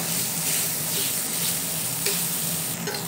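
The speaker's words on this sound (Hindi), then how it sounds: "आलू को भी इन सभी चीज़ों के साथ भून लेंगे" Potatoes frying with softened tomatoes and spices in a pan for a spicy matar chaat, a steady, loud sizzle and hiss with faint scraping of stirring, continuous and close.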